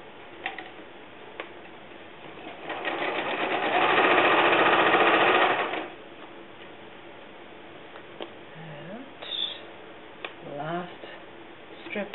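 A sewing machine stitches a strip onto a log cabin quilt block, starting with a steady whir that builds to a loud, fast run for a couple of seconds, then slows to quieter ticking. A person speaks faintly nearby.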